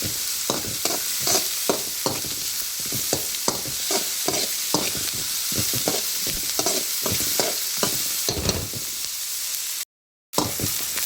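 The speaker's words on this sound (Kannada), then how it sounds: "ಸ್ವಲ್ಪ ಈರುಳ್ಳಿನ ಫ್ರೈ ಮಾಡ್ಕೊಳ್ಳಿ ಆಯಿಲಲ್ಲೇ ಹಸಿ ಮೇಲೆ ಹೋಗೋವರೆಗೂ ಫ್ರೈ ಮಾಡ್ಕೊಳ್ಳಿ" Sliced onions fry in oil in a pan for a Malnad-style home-cooked dish, giving a steady close sizzle broken by a rapid run of stirring scrapes and taps, then a brief silence near the end.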